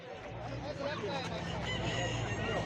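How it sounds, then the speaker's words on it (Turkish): Chickens cluck and crow together in a busy, noisy flock at a poultry market in Sungurlu, Turkey, with people talking faintly in the background. "Burada ziraat tavuklarımız var."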